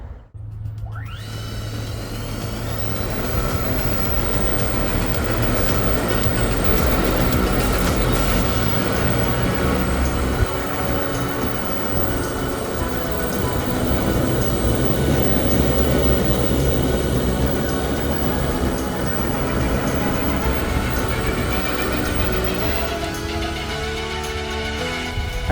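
A homemade 16-propeller eVTOL flying car lifting off, a loud, steady, dense whirring roar that swells after the first second and holds for over twenty seconds without talk.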